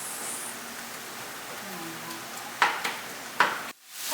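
Lean ground meat frying in a pan, a steady soft sizzle running throughout with a few sharp clinks of a utensil against the pan near the end.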